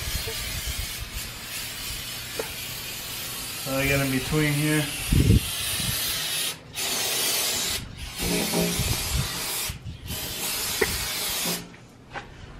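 Aerosol cleaner sprayed onto car exhaust headers being prepped for ceramic coating, a steady close hiss in repeated bursts with short pauses, while someone talks over it.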